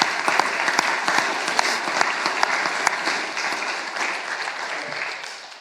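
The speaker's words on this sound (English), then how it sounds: "giving them a round of applause for doing what they're doing" Audience applause at a live 2018 candidate debate in Mount Gambier, a steady wash of many hands clapping with no voices over it, easing off slightly toward the end.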